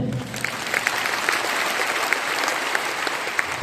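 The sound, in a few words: audience clapping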